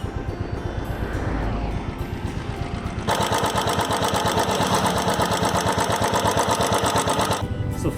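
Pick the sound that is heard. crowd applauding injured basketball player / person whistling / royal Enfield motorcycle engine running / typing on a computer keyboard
royal Enfield motorcycle engine running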